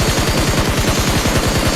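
An M416 rifle empties a full magazine in the BGMI mobile battle royale game, producing a loud, rapid stream of evenly spaced automatic shots that fires without pause.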